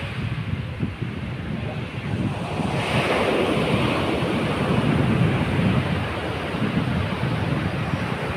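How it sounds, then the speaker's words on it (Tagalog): Steady roar of ocean surf breaking along a beach, loud and continuous with wind buffeting the microphone, a faint voice briefly underneath. "Lalaki ng alon, no?"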